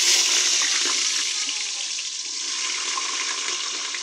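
Potatoes dropped into hot ghee on a stove set off a loud, continuous hiss of frying that stays close and even, easing slightly midway, with no voices.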